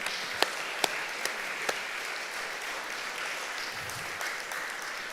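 Audience applause at a young artist showcase in La Jolla Presbyterian church, a steady wash of clapping with a few sharper individual claps standing out, moderately loud and sustained throughout.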